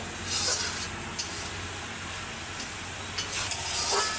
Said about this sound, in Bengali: এখন এই যে আর একটু ভাজা ভাজা করে নিয়ে আমি নামিয়ে নিই